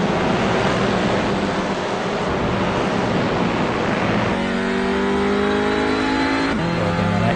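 TCR touring race cars in iRacing at the Red Bull Ring roar loudly and continuously, engines revving and shifting as they brake toward the hairpin and accelerate out, with rising harmonic whine from several cars near the end.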